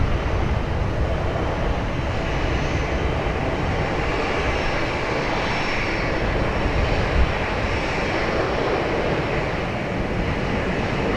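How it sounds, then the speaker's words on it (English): A Delta Airbus A319 airliner taxis at Raleigh-Durham International Airport, a broad, steady jet engine rumble and roar holding constant at moderate distance, no one talking. "Our A319. Delta making its way back here."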